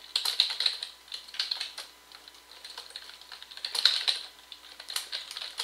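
Keys clatter in quick bursts of typing on an old 1999 computer keyboard, close and fairly crisp, with short pauses between runs and no voices.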